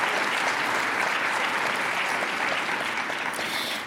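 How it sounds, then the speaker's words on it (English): An audience at a National Honor Society induction ceremony claps in a dense, steady round of applause that holds for a few seconds before easing off slightly. "Could you please give them a quick round of applause?"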